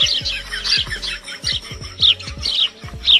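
A group of small birds chirp and tweet together in rapid, overlapping calls, lively and close, with brief squawks mixed in.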